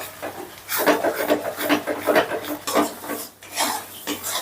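Spatula scraping and stirring spice masala in a pan while cooking Punjabi chicken curry, a steady close rasping rub in repeated strokes with no talk.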